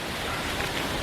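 Rain falls steadily outdoors during a porkchop cooking session, a dense, even hiss with no breaks or distinct drops.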